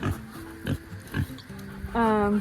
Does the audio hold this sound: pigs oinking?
yes